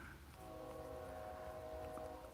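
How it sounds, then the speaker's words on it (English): Faint and distant, a train rumbles past with a steady low drone and a sustained horn-like tone, heard far off behind a workshop where a string trimmer is being repaired. "You can hear the train in the background."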